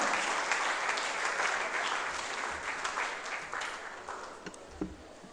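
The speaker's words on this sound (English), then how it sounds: "with a round of applause, let's invite our Dr. Anthony Isia Asari" Ladies and gentlemen at a regional townhall meeting give a round of applause as a doctor is invited up, a dense, sustained roomful of clapping that slowly fades over several seconds.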